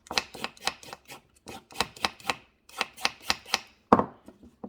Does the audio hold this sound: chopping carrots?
yes